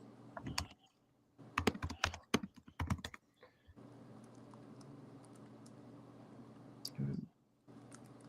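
Computer keyboard typing a search into an online search box, with bursts of quick key clicks in close, fairly quiet room tone and a brief spoken remark partway through.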